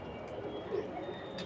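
Pigeons, old high-flying and golden Rampuri breeds, coo softly and steadily at a moderate distance in a short, continuous low murmur.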